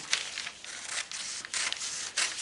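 Paper scissors snipping through fabric appliqué shapes in several short, crisp bursts with brief pauses between cuts, close up and without talking.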